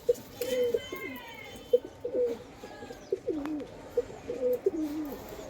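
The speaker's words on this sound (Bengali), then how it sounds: "ওয়াত কাকার কিছু পায়রা দেখাচ্ছি দেখুন আপনাদের।" Pigeons coo in repeated soft, throaty phrases at a steady rhythm, close by, with faint chirps and background noise between the calls.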